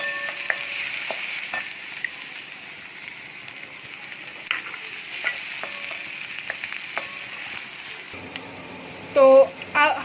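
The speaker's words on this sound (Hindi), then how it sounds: "अब हम इसमें अनियन डालेंगे, अब हम इसको अच्छी तरह से सॉट कर लेंगे।" Chopped onions sauté in a pan for parwal kalonji, a steady soft sizzle broken by the clicks and scrapes of a stirring spoon, and a brief clink near the end.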